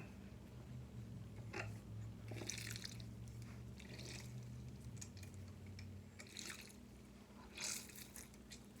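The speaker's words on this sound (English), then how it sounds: "And the juice of a large lemon." Juice from a large lemon is squeezed and drips onto flaked salmon seasoned with salt and pepper for salmon patties, giving a few soft, scattered drips and splats over a quiet, low room hum.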